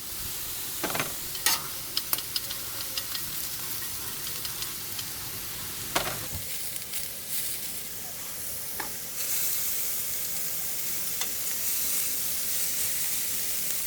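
Chorizo and potatoes sizzle steadily on a Weber Slate flat top griddle, a continuous close frying hiss broken by a few sharp scrapes and clicks of a spatula spreading the food out, with no talking.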